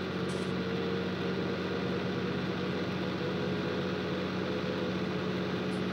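Tractor engine in Farming Simulator 2019 running at a steady, even drone, fairly quiet and continuous with no speech.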